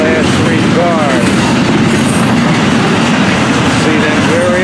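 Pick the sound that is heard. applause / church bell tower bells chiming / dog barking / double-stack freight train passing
double-stack freight train passing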